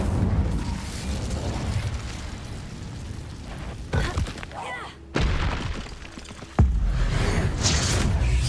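An Incendio fire spell is cast in Hogwarts Legacy, giving several loud bursting, whooshing blasts of flame among game effects, with a voice speaking over the action.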